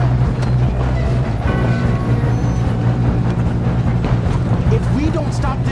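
A train in Red Dead Redemption 2 rumbles along with a heavy low drone and clanking rail noise throughout, with voices talking over it.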